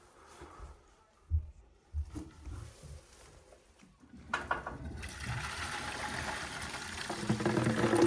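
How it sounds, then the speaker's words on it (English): A toilet flushes and water rushes through an opened waste line during a leak repair, quiet knocks first, then a swelling, steady gush of draining water. "So I asked her to flush the toilet."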